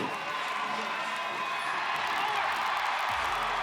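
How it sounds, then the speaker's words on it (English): Crowd at the 2019 Reebok CrossFit Games team event cheers and applauds steadily from across an outdoor field, a dense, continuous roar of clapping and shouts lasting the whole stretch at an even, moderate level. "a big rousing round of applause down at the other end of the field"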